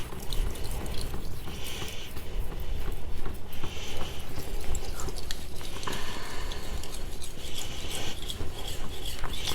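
A kitchen knife being sharpened on an 8000 grit whetstone, either Naniwa Snow White or Suehiro, with repeated close scraping and rasping strokes in an uneven back-and-forth rhythm, steady and moderately loud with no talking.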